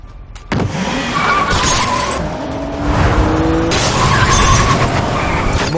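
Car chase sound effects from an action film after a car's tyres are shot out, with loud engine roar and sustained tyre skidding and squealing throughout, no crash impact standing out.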